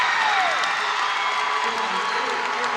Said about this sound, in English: You hear the crowd come alive here for Mercy McAuley